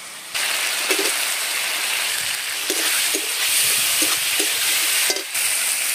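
Tomatoes frying in a pan with ground coriander and cumin paste for an egg and potato curry, a steady close sizzle throughout with a few brief stirring clinks and no talk.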